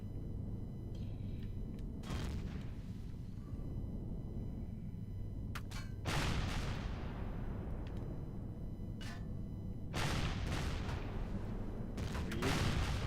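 Several gunshots ring out at irregular intervals, sharp broadband cracks each followed by a decaying echo, with a couple of louder, closer blasts over a steady low background hum.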